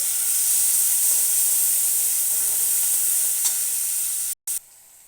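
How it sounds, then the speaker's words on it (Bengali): Chopped onions fry in a pan with a loud, continuous sizzle and hiss, close up, that cuts off abruptly near the end and drops to a faint background hum. "পেঁয়াজগুলো লাল লাল করে ভেজে নেব।"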